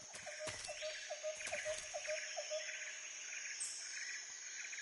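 Repeated bird chirps and calls ring out in a video game jungle, Metal Gear Solid 3: Snake Eater, with a steady rhythm of short notes over a constant insect-like background drone, moderately near and without talk.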